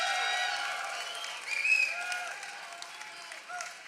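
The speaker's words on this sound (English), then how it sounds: "Please give Donnie Show another round of applause." An audience honoring Pittsburgh Steelers Hall of Famer Donnie Shell gives a round of applause, a soft, diffuse patter of clapping that carries on evenly and fairly faintly, with some voices blended through it.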